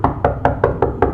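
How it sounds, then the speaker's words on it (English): Six even, firm knocks on a front door at night, close and loud, in a steady quick rhythm with no voices. "I heard a knock at the door"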